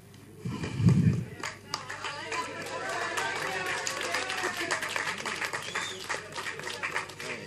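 An audience at a Tamil film title event claps sparsely, with light scattered hand claps under steady crowd chatter after a dull thump near the start, and people talking throughout.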